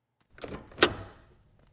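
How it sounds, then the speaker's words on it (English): A door lock being unlocked: a short mechanical scrape followed by a sharp click of the bolt, close and alone in an otherwise silent room. "I heard it. The door unlocking."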